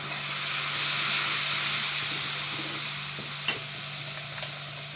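A loud, steady sizzle hisses from a hot pot as water is added to a tempering for karahi gosht, broad and continuous, with a small clink partway through.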